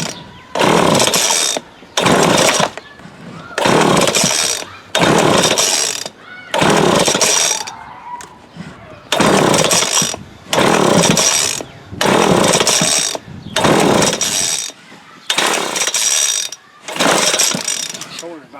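A McCulloch Mac 3516 chainsaw with carburetor problems is pulled over repeatedly, about a dozen loud, evenly spaced rattling recoil-starter pulls separated by short pauses, with no sign of the engine catching and running.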